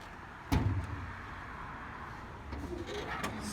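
On a classic Datsun with a forward-hinged clamshell hood, a sharp latch clunk is followed by faint handling noises and a second soft clack as the hood is raised. The sounds are fairly quiet.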